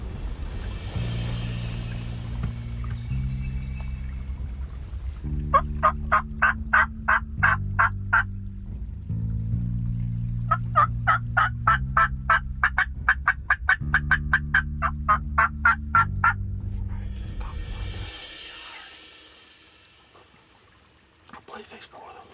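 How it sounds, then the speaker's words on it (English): Wild turkey gobblers gobble in the woods, several loud rattling gobbles heard in bursts over a low, steady tonal drone, with a voice speaking at the end. "I believe he's more than one gobbler."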